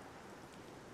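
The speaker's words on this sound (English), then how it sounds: "And now it's raining." Steady rain falls in the video game Xenoblade Chronicles 2, a faint, even hiss of drops with no voices over it.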